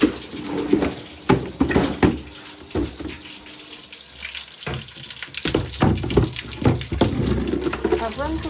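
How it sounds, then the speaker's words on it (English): Hot water runs from a tap into a sink, a steady gushing splash that comes and goes in bursts with clattering between, while a person talks over it. "I've run some hot water."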